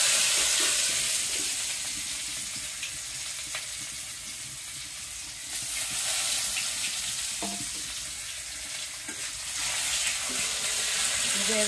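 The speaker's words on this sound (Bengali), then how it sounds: "তেল গরম হয়ে গেছে এখন দিয়ে দিলাম পেঁয়াজ কুচি" Chopped onions drop into hot oil and fry with a broad, steady hiss that swells and eases over several seconds, with faint clinks of a utensil and no talk.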